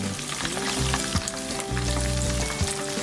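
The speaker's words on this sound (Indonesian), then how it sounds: "diaduk-aduk ya, biar si bumbunya matang rata." Spice paste for beef gepuk sizzles and crackles steadily in a hot pan while being stirred, a dense continuous frying hiss with soft scraping, close and without speech.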